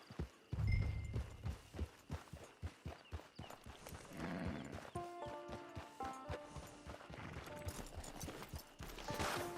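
Horse hooves clop in an uneven walking rhythm in Red Dead Redemption 2, joined by a soft whinny and game music swelling in the background.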